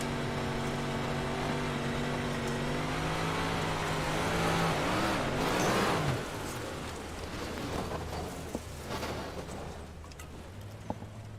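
Dirt-track race cars roar around Eldora Speedway, engine drone rising and sweeping past loudly mid-way before settling into a rougher, gritty rumble with scattered clacks of flung dirt; no talking.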